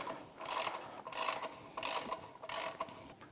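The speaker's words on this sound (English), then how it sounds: "Let's see if we can break that bolt loose." A ratchet on a 22 mm socket with an adapter works at a bolt on a Yamaha F225 outboard lower unit, clicking in four quick, evenly spaced bursts, close and fairly quiet, with no talk.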